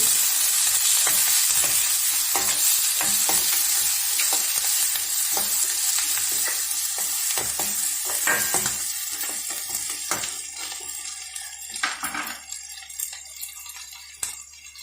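A pan of prawn curry fries loudly as turmeric powder is stirred in, with a steady hiss and sizzle and scattered spoon scrapes and clinks that grow more prominent as the sizzling eases.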